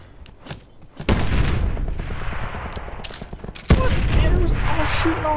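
Gunfire in the Call of Duty Black Ops 4 video game comes as loud bursts of rapid automatic shots, with sharp heavy blasts cutting in, over continuous game noise.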